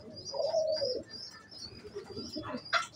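Pigeons coo on a rooftop, a close, soft throaty coo with a few faint chirps and a brief higher call near the end, heard alone without talk.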